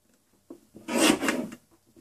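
Scrapbook paper is trimmed with a single sliding cut lasting under a second, a short rasping swipe preceded by a light tap, close and alone.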